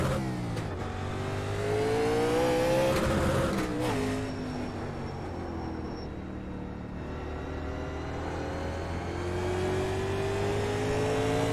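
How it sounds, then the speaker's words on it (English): A race car in the sim racing game iRacing approaches and passes, its engine drone rising and falling in pitch as it nears and recedes, steady and moderately loud throughout. "Take care, there's a car approaching."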